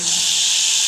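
Steady bright hissing sizzle of garlic frying in hot oil for tempering, close and continuous with no voices.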